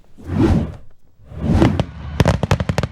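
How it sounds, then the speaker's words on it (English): Fourth of July fireworks launch with two rushing whooshes, followed by a fast crackling string of sharp bangs and pops that sounds close and loud. "Nothing's better than fireworks on the 4th."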